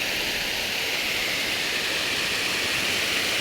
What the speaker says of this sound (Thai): ฟังเสียงน้ำตกครับ